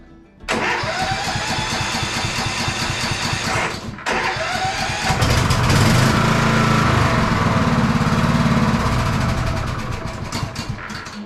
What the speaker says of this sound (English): So now I'm going to try and start it, see if it makes any difference.